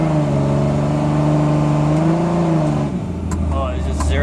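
Cummins-powered single cab pickup truck revving hard as it accelerates up a steep hill, a loud sustained engine drone with rising and falling pitch, then a dip as the load changes near the end; engine noise dominates throughout.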